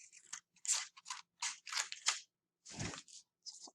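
Scissors snipping through paper to make a layered flap foldable, a rapid series of crisp close cuts in short bursts with brief pauses between them, no talking.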